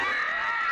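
Mothers let out a sustained, high shriek together at a living-statue prank: one short, loud, continuous scream.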